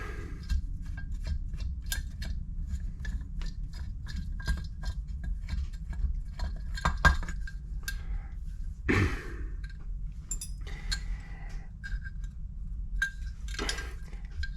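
Metal parts tick and clink sporadically as a Holley marine carburetor is taken apart and its fuel bowls removed, faint small knocks over a low steady background hum.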